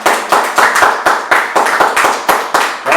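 A church congregation claps in unison during a Spanish-language service, a loud, steady rhythmic beat of about four claps per second from a full room, with no talking over it.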